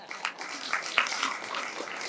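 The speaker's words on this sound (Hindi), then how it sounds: "जो पत्नियां हैं उन्होंने ताली बजाई।" Wives in the audience at a Jain religious discourse give a brief, soft scattering of claps, fairly quiet and somewhat distant, with murmuring in the hall.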